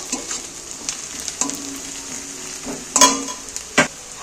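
Small-cut onions frying in oil for chicken gravy, a continuous close sizzle punctuated by several sharp scrapes and knocks of the spatula as they are stirred.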